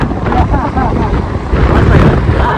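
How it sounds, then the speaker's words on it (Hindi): Strong wind blows across open water at a scenic fishing spot near a lakeside temple near Mysore, roaring steadily and loudly into the microphone, with a voice partly buried beneath it. "हवा चल रहा है, बाल से आप लोगों को पता चल रहा होगा।"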